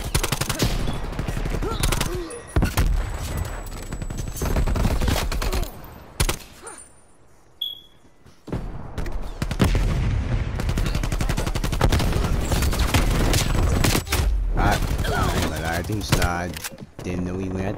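Rapid automatic gunfire bursts from a Black Ops Cold War match, loud and close, rattling in long strings with brief gaps, mixed with game effects and a player talking over it.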